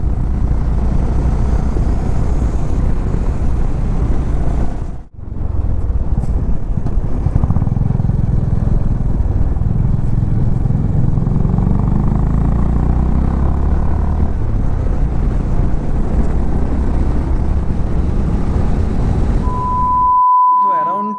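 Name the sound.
motorcycle riding on a mountain road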